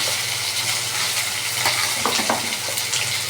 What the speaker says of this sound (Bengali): দেখো আমি কড়াই থেকে বাটাটাকে ছেড়ে দিচ্ছি